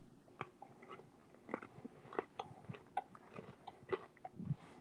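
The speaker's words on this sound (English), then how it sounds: "We want to hear the chewing." Someone chews a Chips Ahoy-style cookie up close, producing soft, irregular crunches and bites with moist mouth sounds, quiet and alone without talk.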